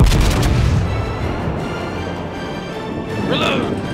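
Naval guns fire in a video game with a heavy boom at the start, then a long rumbling tail that rises again near the end, with a voice speaking over the blasts.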